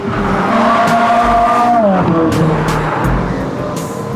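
A car driven as a daily commuter, engine note loud and close with a falling pitch sweep as it changes speed, plus some tire noise, no talking.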